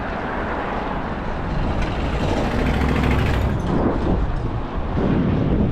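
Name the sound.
DIY electric mullet bicycle motor at full throttle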